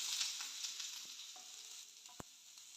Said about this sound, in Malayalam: ഇത് വെച്ചിരിക്കുന്ന സവാള ഇട്ട് കൊടുക്കാം.